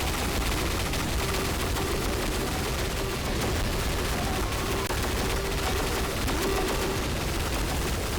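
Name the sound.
minigun fire in Team Fortress 2 video game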